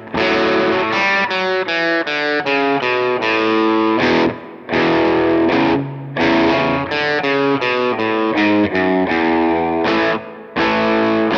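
A distorted electric guitar plays a riff at a slow, deliberate pace, picked notes repeating in short bursts with brief pauses between phrases.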